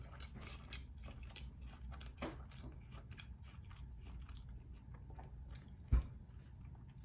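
A big bite of crunchy apple roll-up being chewed close up, with steady crisp crunching and a sharper snap near the end, no talking.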